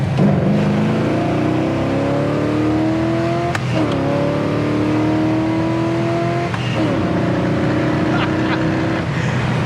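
A 1969 Chevrolet Chevelle SS 396 convertible accelerates hard through the gears, its V8 rising in pitch with each pull and dropping sharply at two quick shifts, loud and close throughout.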